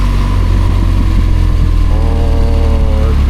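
BMW R1200GSA motorcycle with an Akrapovic HP full exhaust system, its engine running steadily and loudly up close with a deep rumble throughout, and a rising tonal whine layered in over the final second or so.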